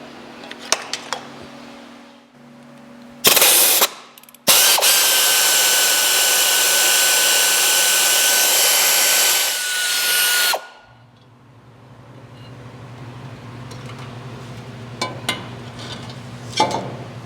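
A power tool works on stuck exhaust manifold bolts on a GMC motorhome. A brief loud burst is followed by a long, steady, close whine of about six seconds, with quieter clanks and a low hum before and after.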